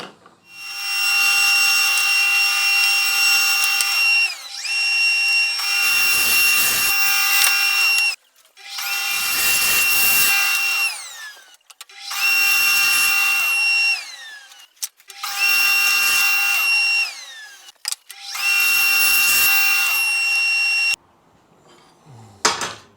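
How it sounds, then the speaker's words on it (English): A power saw cuts through wooden blocks for a router table fence in six loud, evenly spaced bursts, each whine lasting a few seconds with brief quiet gaps between cuts. "Now what I'm doing here is just cutting 4 blocks at 66mm each."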